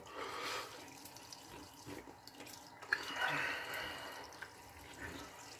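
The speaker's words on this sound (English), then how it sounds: "Rinse off." Water running from a faucet into a sink while someone rinses off after a wet shave, faint splashing and dripping with soft handling noises close by.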